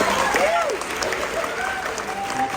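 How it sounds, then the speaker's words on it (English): Crowd applause for a guest at a convention, clapping with cheers and whoops rising above it, loud and close throughout. "I want to give a big round of applause to our guest, Anya Linden."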